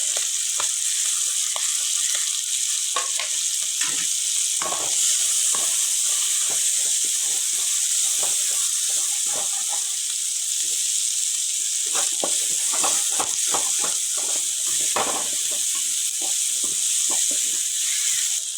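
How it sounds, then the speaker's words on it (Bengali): A large, finely chopped onion fries in a pan for chicken chowmein, giving a loud, steady sizzle with constant hiss and scattered crackles and pops throughout. "আমি এখানে একটা বড় সাইজের পেঁয়াজ দিলাম, ভালো করে পরিষ্কার করে ধুয়ে কুচি কুচি করে কেটে দিলাম"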